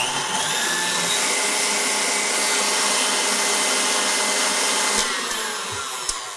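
Stand mixer whipping cream to stiff peaks, a steady loud motor whir that holds for several seconds before tapering slightly near the end.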